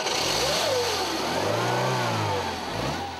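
A Renault 16 car engine revs up and settles again, a raspy yet melodic mid-pitched drone heard close and alone, with no voices.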